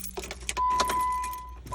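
Keys jangle and a Jeep Wrangler with a faulty shifter chimes as the ignition turns on, a brief close rattle followed by a steady tone, with no talk.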